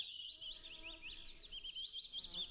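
Grasshoppers, including bow-winged and blue-winged species, chirp in a pine forest on overgrown sandy ground with grey hairgrass, giving out repeated high buzzy stridulation in quick rhythmic bursts, moderately near and steady throughout.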